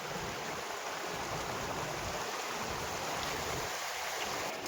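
Rainwater runs off farm fields near Limdi village after a downpour, a continuous rushing, gurgling flow close by with no breaks.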